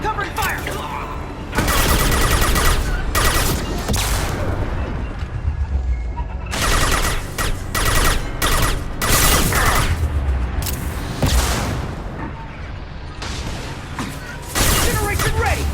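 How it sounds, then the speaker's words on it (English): Heavy Mass Effect 2 firefight with bursts of rapid gunfire and booming impacts in repeated loud volleys separated by short lulls, with shouted voices mixed in. "Get to cover! Let's get some covering fire!"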